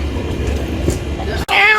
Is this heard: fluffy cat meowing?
yes